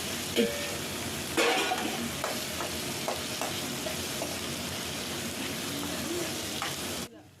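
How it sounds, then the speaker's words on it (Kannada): Eggplant and potato pieces frying in hot oil, a steady dense sizzle with occasional stirring clacks from the pan, continuous and close, cutting off abruptly at the end. "ಇದನ್ನು ಚೆನ್ನಾಗಿ ಎಣ್ಣೆಯಲ್ಲೇ ಫ್ರೈ ಮಾಡ್ಕೊಂಡು ಬಿಡಬೇಕು"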